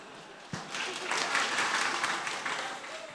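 Applause from a crowd at a reunion gathering of an Islamic boarding school alumni in Jepara, starting with one sharp clap and swelling into a steady, moderately distant clapping.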